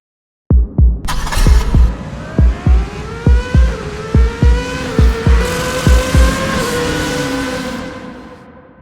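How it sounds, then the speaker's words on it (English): Cars lap a race circuit nearby, their engine note climbing steadily in pitch as one accelerates, over a series of regular low thumps and steady background rumble. "Now you'll be able to hear cars going around the circuit behind me."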